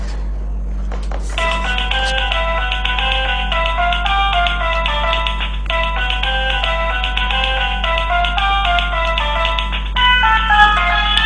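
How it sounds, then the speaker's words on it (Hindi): A phone rings with a repeating electronic melody of bright, stepped tones that loops several times over a low steady hum, loud and close, with no talking over it. "आदिल का फोन है"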